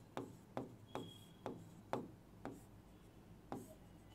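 Someone writes on a board during a physics lesson, making a faint series of about seven sharp, evenly spaced strokes in an otherwise quiet room.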